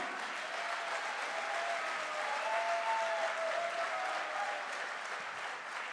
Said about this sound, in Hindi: यस, एक बार डायमंड वाली तालियां।